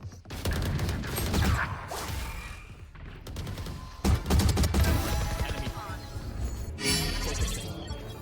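Gunfire in a competitive shooter video game match, bursts of rapid shots and sharp impacts in clustered volleys, loud and close with chaotic crashes between them.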